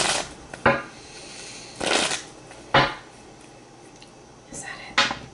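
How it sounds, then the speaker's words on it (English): Tarot cards being shuffled by hand, heard as several separate close riffling bursts and flicks with quiet gaps between them, uneven and halting. "Having some issues with shuffling today."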